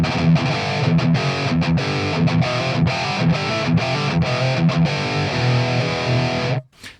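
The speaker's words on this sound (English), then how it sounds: "So you really get that really awesome distortion sound." Jackson Pro Monarkh SCP electric guitar played straight into a high-gain amp with no pedals, giving a dense, heavily distorted riff of chugging chords and quick picked notes, loud and steady, then cutting off abruptly near the end.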